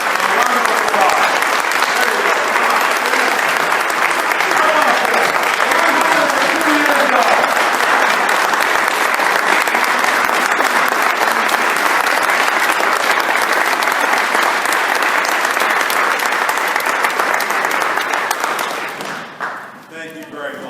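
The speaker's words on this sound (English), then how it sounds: "A round of applause." Sustained, dense audience applause fills a scholarship celebration as an honoree stands, holding steady and loud for about eighteen seconds before tapering off into scattered claps.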